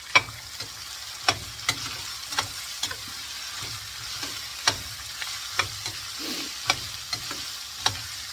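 Chopped onions frying in a pan until golden brown, a constant sizzle with a series of clicking stirring taps against the pan, close and without voices.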